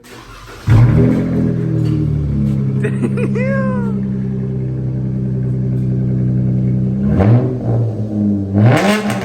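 V6 Chrysler with a newly installed aftermarket exhaust, revved up loudly and held at a steady, throaty drone close by, then dropping and blipping again near the end, with a voice briefly heard over it.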